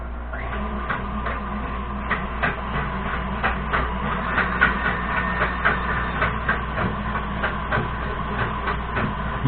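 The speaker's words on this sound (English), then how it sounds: "You do not want to turn the mixer on high. A nice low to medium speed is best." Electric mixer running at low to medium speed, whisking a saffron almond milk ice cream base, giving a steady motor hum with soft rhythmic clatter that continues throughout, no talking.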